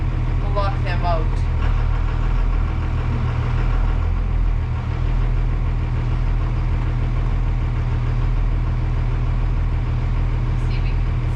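A bus diesel engine idles and warms up on its first start after winter, a loud, low, steady rumble with a knocking texture throughout while voices talk faintly over it.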